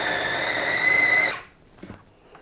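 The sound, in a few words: food processor blending chickpea batter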